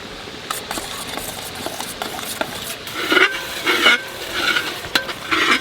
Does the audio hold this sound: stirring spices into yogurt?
yes